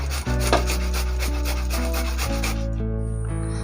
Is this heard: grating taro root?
yes